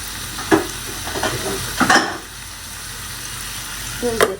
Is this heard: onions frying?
yes